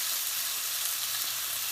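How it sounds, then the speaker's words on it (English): Bacon sizzles and crackles on a griddle, a dense steady hiss of frying fat that runs without pause, close and fairly loud with no voices. "while that bacon's sizzling"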